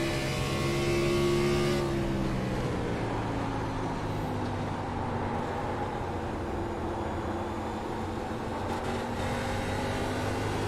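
Race car engine in a sim racing game at New Hampshire roars loud and continuous, pitch sweeping down through a gearshift early on, then holding a steady droning whine.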